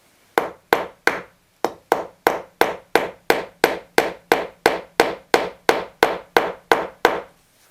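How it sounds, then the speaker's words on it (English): A steady series of sharp hammer taps on decorative nails, about two per second, each a crisp metallic-wooden knock with a short decay, close and loud. "I can just tap it with the hammer to move it where I want it"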